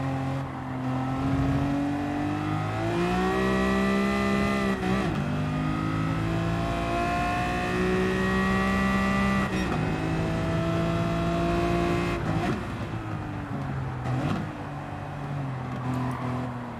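A car engine in Gran Turismo 7 revs and climbs through repeated gear changes, with steady rising and falling pitch and brief shifts, loud and continuous throughout.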